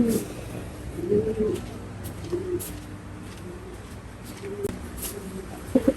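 Several pigeons in a loft coo nearby, with low, throaty bursts recurring every second or so over a steady background hum, and a few sharper flutters and clicks near the end.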